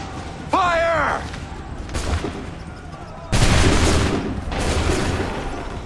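A musket volley is fired on command in Assassin's Creed 3, with loud massed crackling blasts that ring out and roll away. A shouted order comes before the first volley, and a second volley booms out a few seconds later.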